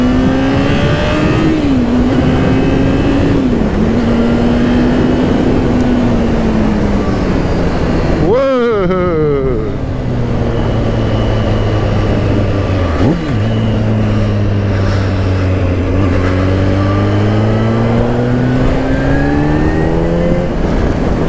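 A 2004 Kawasaki ZX10R motorcycle engine revs up and down close by, its pitch climbing and falling in repeated sweeps with a sharp blip midway, loud and continuous.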